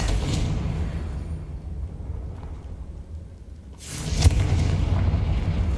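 A Confringo spell explosion in Hogwarts Legacy erupts as a heavy, loud boom with a broad rushing blast, rising sharply near the four-second mark after a calmer rumbling stretch.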